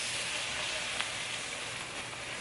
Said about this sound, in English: Now we're gonna deglaze with Guinness